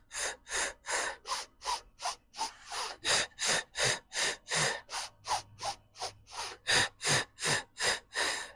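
Rapid, forceful breaths pumped out in a steady rhythm during a mat Pilates breathing exercise, about two per second, close and airy, with no talking.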